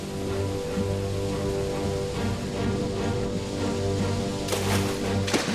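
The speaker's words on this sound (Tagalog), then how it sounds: "biglang bumuhos ang malakas na ulan" Heavy rain pouring down outdoors in Guiguinto, Bulacan, a loud, dense, continuous hiss of drops on surfaces, with a brighter burst of heavier splashing near the end.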